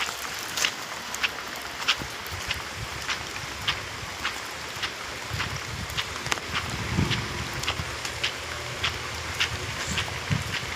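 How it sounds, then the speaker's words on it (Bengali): Heavy rain falls steadily outdoors, a dense continuous hiss with scattered sharper drips and taps, distant and even throughout. "আমাদের এখানে প্রচুর বৃষ্টি হচ্ছে"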